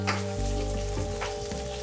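Onion frying in hot oil with fennel and curry leaves for pepper chicken, a steady close sizzle that swells as the onion hits the pan, with faint tonal background music underneath and no talking.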